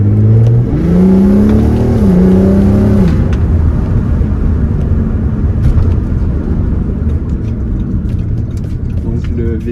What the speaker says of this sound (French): Et là, on a déjà plus le son d'origine, vous allez vite l'entendre. J'ai pu faire une petite suppression de silencieux.